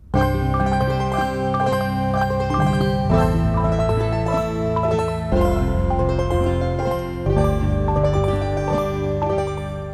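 Granular synth sample on a Sonicware Liven Texture Lab layered in octaves, a thick sustained chordal drone with low bass and shimmering upper tones that shifts notes every couple of seconds, loud and steady with no talking.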